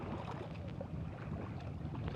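A boat moves forward on floodwater, giving a faint, continuous rush of water and wind noise with no clear voices.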